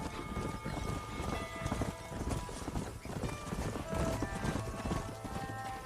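Several horses gallop together in the Red Dead Redemption video game, a dense rolling clatter of hoofbeats heard up close and steady, with faint game sounds mixed in.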